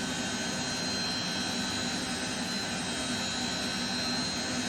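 A Lockheed JetStar jet engine spooling up during a cold-and-dark startup in Microsoft Flight Simulator 2024, a loud, continuous whining roar with a thin high tone running steadily throughout, alone without speech.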